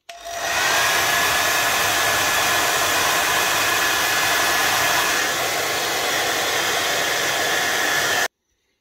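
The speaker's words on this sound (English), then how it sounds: "get your wife's hairdryer" A hair dryer on low heat blows steadily over a vinyl record, a loud, continuous whooshing hum that starts abruptly, holds for about eight seconds, then cuts off.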